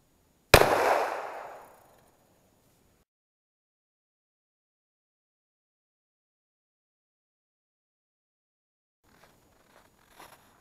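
A single loud, sharp Ruger Mini-30 rifle shot strikes spray paint cans, its crack followed by a decaying boom and rumble lasting about a second, then near silence with faint rustling at the end.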